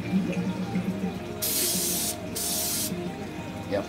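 Two light bursts of silver spray paint hiss from an aerosol can onto an N scale model trailer, each lasting under a second with a short gap between, close and steady over faint room noise.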